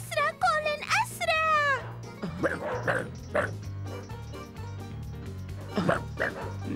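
A cartoon dog barks and yips in a quick run of high, bright calls at the start, then a few scattered barks sound over a steady music bed in an animated series episode.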